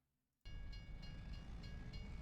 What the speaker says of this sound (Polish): no akurat pociąg idzie, świetnie